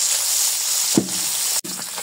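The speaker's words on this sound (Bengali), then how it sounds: "মাছটা নুন দিয়ে আর হলুদ দিয়ে ভালো করে মাছটা ভেজে নিচ্ছি।" Tengra fish frying with salt and turmeric in a very hot wok gives a steady, loud sizzle throughout, broken by a brief soft thump near the middle and a sharp momentary dropout toward the end.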